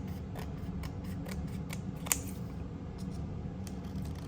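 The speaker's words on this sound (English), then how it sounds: "So I'm gonna trim it a little bit here, get rid of a little bit of that" Scissors trimming excess paper from a junk journal page, a series of soft crisp snips spaced through the stretch with one sharper cut standing out, all heard close against a low steady room hum.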